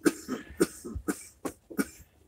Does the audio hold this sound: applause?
no